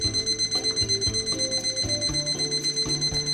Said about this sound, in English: this machine's going to beep at me if it hits, or if it breaches 165